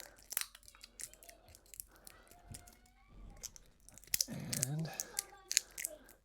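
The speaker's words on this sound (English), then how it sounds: "getting this plastic wrap off" Plastic wrap being pulled off a new part of a Hunter ceiling fan, close crinkling and tearing with rustling bursts, heaviest toward the end, under occasional speech.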